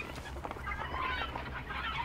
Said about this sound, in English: Well, they know we're here because of these chickens.